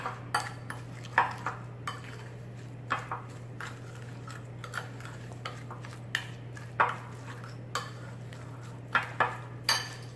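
Jamaican jerk pork chops are being mixed by hand with all-purpose seasoning. Sparse light clinks and scrapes come at an irregular pace, close and soft, over a low steady hum.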